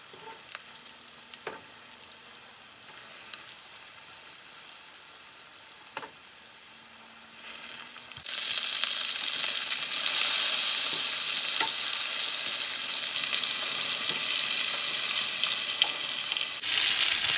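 Country fried steaks cook in a pan over medium-high heat. A soft sizzle with occasional light taps gives way to a loud, steady, crackling fry that carries on close up until the end.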